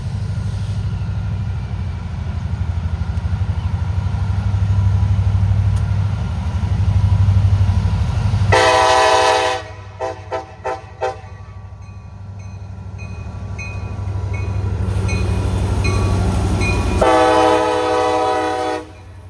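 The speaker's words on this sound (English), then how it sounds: "got CSX M252 coming up. He's just starting out from a dead stop, so he'll be motoring, trying to get up to speed here" CSX M252 freight train pulling away from a dead stop, its locomotive engine rumbling loudly before a long horn blast, a few short toots, and another sustained horn call close by.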